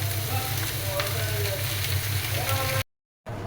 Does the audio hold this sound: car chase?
no